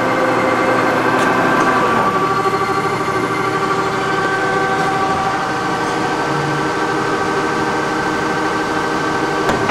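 A K&T 205-S-12 vertical mill spindle runs up toward 2,000 RPM, a loud steady machine whine with layered tonal hum holding throughout, close and alone.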